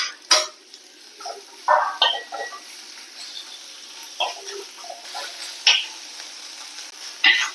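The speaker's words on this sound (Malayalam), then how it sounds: "ഇത് ഇഞ്ചി വെളുത്തുള്ളി പേസ്റ്റാണ് ഇതൊക്കെ കൊടുക്കുക രണ്ട് പച്ചമുളക്" Ginger garlic paste and two green chillies fry in a pan with a soft, continuous sizzle. Sharp clinks and scrapes of stirring break in every second or so.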